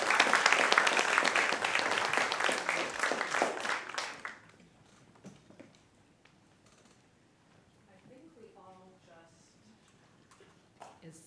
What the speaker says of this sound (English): I think we all just applauded Dr. Bergier for the speech that he just gave us